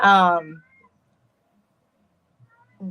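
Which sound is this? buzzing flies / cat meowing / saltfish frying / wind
cat meowing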